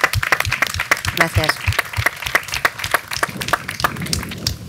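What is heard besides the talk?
audience applause for the Ayuntamiento de Fuenlabrada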